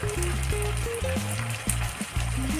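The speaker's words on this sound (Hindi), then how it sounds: "अब हम इसमें टमाटर डाल देंगे जो हमने पहले ही कट करके रख लिए थे। अब हम इसमें मसाले भी ऐड कर देते हैं।" Chopped tomatoes and spices (red chilli, coriander and turmeric powder) fry for chhole in a hot pan, giving a steady, close sizzle with soft tonal music running underneath throughout.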